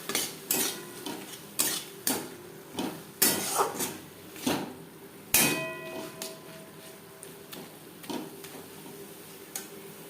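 Spices are stirred in a pan with a metal spoon while making chicken Maggi noodles, producing repeated sharp scrapes and clinks in an uneven rhythm over a faint sizzle, close and fairly quiet.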